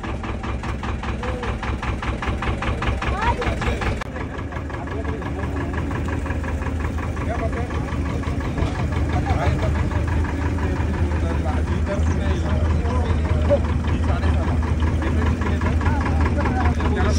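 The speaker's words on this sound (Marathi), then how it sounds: "या अशी बोटीची इंजिन असते." A small boat's engine idles and then runs steadily, a close, continuous mechanical chug that rises slightly in the second half, with people chatting over it.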